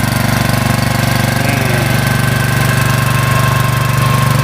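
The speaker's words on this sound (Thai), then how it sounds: "ใช้ เครื่องฉีดแรงดันสูงครับผม" A high-pressure sprayer engine runs steadily at a part-throttle idle in a palm plantation while spraying liquid fertiliser, a continuous loud mechanical drone with a fast knocking pulse and no talk.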